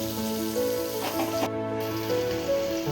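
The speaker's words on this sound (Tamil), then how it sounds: "நல்லா வதங்கி இது கொஞ்ச நேரம் வதங்கட்டும்" Onions sautéing in a pan while chilli chicken is being made give off a steady, close crackling sizzle that runs evenly through the whole stretch with no talking.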